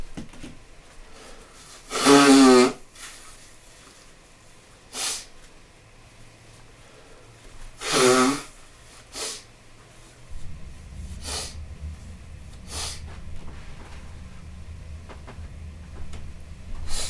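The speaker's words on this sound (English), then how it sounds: "I'm gonna blow my nose." Two loud, forceful nose blows into a paper towel, each a short burst of snorting air a few seconds apart, followed by quieter rustling and sniffing up close.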